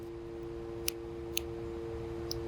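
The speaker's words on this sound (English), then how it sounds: "you're going to take your scissors and you're actually going to cut the other end" Three faint, crisp snips of scissors cutting yarn, spaced apart over a steady low hum, quiet and close.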